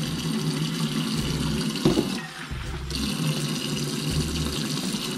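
Water pours steadily into a rice cooker pot, splashing and rushing up close for several seconds.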